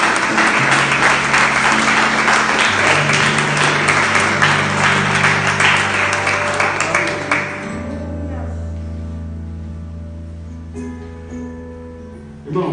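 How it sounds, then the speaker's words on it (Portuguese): A church congregation applauds loudly for about seven seconds over sustained organ or keyboard chords, then the clapping fades away and the instrumental music carries on alone. "Você pode aplaudir o Senhor por essa palavra?"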